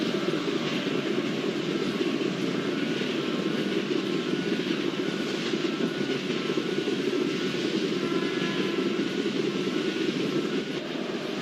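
Train hauled by a brand-new WAG7 electric locomotive on the Southern Railways route in Tamil Nadu, rolling through a level crossing with a steady, loud rumble and wheel noise throughout and no talking.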